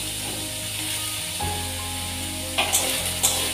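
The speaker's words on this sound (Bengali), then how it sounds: "সেই জন্য একটু ফ্রাই করে নিচ্ছি" Carrots sliced thin, green chili, ginger and garlic sizzle steadily in a hot pan, a continuous close frying hiss with a few sharper spatters and stirring clinks near the end.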